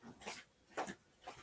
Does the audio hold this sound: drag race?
no